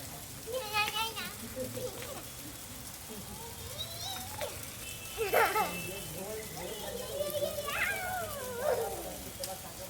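Rain falls steadily in the background, a soft continuous hiss under people talking and a child's chatter throughout.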